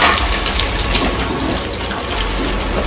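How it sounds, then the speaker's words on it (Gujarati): Capsicum dropped into hot tempering oil for a Punjabi-style cashew curry sizzles loudly and steadily, a dense close hiss that stays even throughout with no talking. "પહેલા કેપ્સિકમ નાખીશું"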